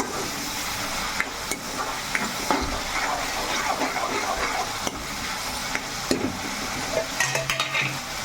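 Sliced onions with turmeric and salt sautéing in a pan, a steady close sizzle with frequent scraping stir strokes throughout, no talking.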